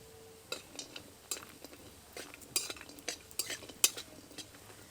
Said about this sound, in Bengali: তেল গরম হয়ে গেছে, এবার বড়ি দিয়ে ভেজে নেব